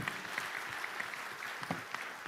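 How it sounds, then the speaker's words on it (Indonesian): An audience applauding the organizing committee at an event, a steady, even wash of many hands clapping at moderate distance, continuous from start to finish with no voices over it. "Tepuk tangan buat panitianya."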